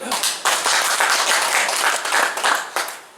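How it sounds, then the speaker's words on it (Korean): Warm applause from a lecture audience welcoming a history lecturer to the stage, dense and steady clapping from many hands filling the room for about three seconds with no talk over it. "뜨거운 박수로 환영해 주시기 바랍니다"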